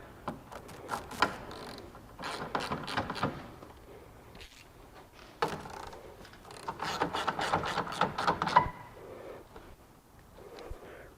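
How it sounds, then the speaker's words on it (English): Close ratchet clicking in several bursts of rapid pawl ticks with short pauses, as top headlight bolts are tightened on a 2014 Chrysler Town & Country minivan. "go ahead and tighten our top bolts down"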